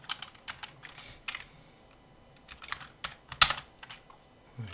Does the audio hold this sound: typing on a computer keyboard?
yes